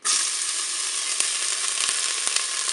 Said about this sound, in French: mon huile est chaude, je vais mettre mes morceaux d'oignon.